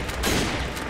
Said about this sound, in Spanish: 5 disparos de francotirador.